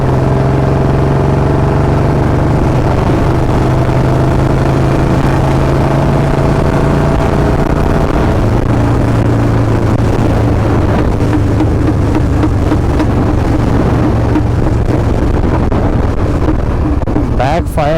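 Royal Enfield Bullet 350 fitted with a free-flow L-bend exhaust, running loud and steady with a deep engine drone that shifts in pitch partway through, some wind noise over it.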